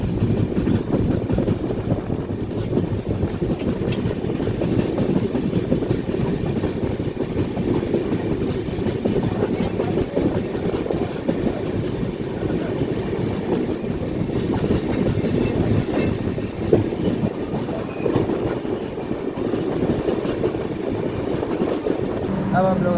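An Indian passenger train runs along the rails near Gomoh after a journey of 1117 km, with a continuous rumbling roll and faint clickety-clack of wheels under a steady, moderately loud drone.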